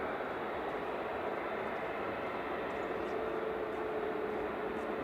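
A plane at Manchester Airport gives a steady, distant engine roar that holds evenly without voices on top.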